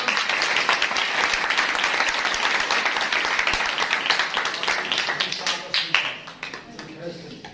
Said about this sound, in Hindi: खादम के लिए जोरदार ताली